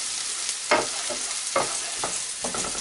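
Onion frying in hot fat with curry leaves for a vegetable curry, a constant close sizzle broken by a few sharp stirring scrapes.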